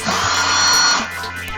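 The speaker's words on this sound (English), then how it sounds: "So I'm going to take out 2 screws up here on this cross bracket right here." A power drill whirs for about a second, close and steady, backing screws out of the cross bracket of an Emerson ice cube maker, then winds down.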